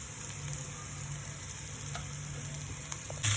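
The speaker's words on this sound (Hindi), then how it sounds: "इसे 2 मिनट तक अच्छी तरह से भून लूँगी।" Broken boiled potatoes fry in a pan with a steady soft sizzle and a constant low hum, close and even, ending in a brief clatter.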